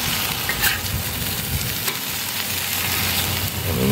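New York strip steaks searing on a propane Blue Rhino Razor griddle, a steady loud sizzle and crackle of fat that goes on throughout, close and without talk.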